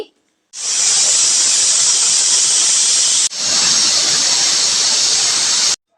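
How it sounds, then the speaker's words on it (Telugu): A pressure cooker cooking chickpea curry vents steam in two long, loud, steady hissing bursts separated by a brief break, close to the microphone. "రెండు విజిల్ అయితే వచ్చినాయండి"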